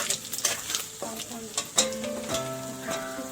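Onion, dried red chilli, bay leaf and cumin frying with potato in a pan, a steady broadband sizzle with scraping stir strokes and a faint humming voice over it.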